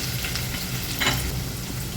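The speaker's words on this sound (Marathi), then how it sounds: "त्यानंतर आपल्याला हिरवी मिरची आणि आल्याचा हा ठेचा घालून घ्यायचा आहे मंद गॅसवरच आपल्याला हे परतायचं आहे सगळं" Green chili and ginger paste sautéing in a pan over low gas for Maharashtrian masale bhat, a steady close sizzle and crackle of frying with a brief louder burst partway through and no voices.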